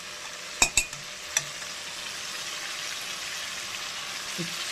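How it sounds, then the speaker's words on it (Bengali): Masala fries in a pan with a soft, steady sizzle while it is stirred. A few sharp utensil clicks come early, and a voice is briefly heard. "ভালো করে নেড়ে কষাতে থাকবে।"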